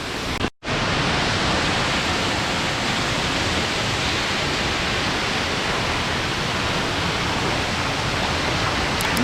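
Yerköprü waterfall in Mersin, Turkey: a steady, full roar of falling water that fills the whole stretch, with only a brief dropout near the start.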